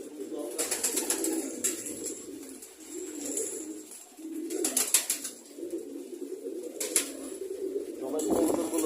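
Pigeons coo on a sunny winter morning, soft low repeated calls rolling continuously nearby, with a few brief sharper noises breaking in now and then.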